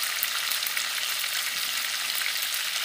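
Small new potatoes fry in hot oil in a pan, giving a steady, close, loud sizzle of broadband crackle that runs without pause, with no voices.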